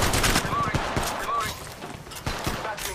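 Rapid automatic gunfire in Apex Legends Mobile: repeated sharp shots in bursts, with brief whooshing streaks between them and a fresh volley near the end, fairly close and loud.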